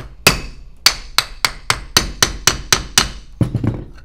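A hammer taps a piece of Delrin about nine times in a steady rhythm, loud and close, each strike a sharp knock, ending with a quicker cluster of lighter taps.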